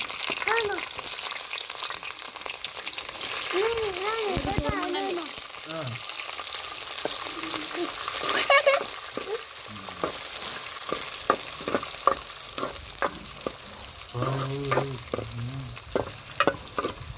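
Chopped onions and green chillies drop into strongly heated oil in a home kitchen pan, a steady broadband sizzle running throughout with stirring scrapes, while a person talks intermittently over it.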